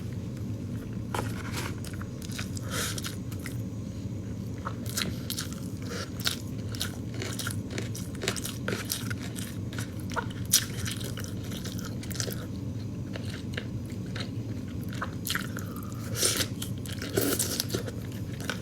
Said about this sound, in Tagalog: Or kung gusto nyo, makinig lang kayo sa akin kumain.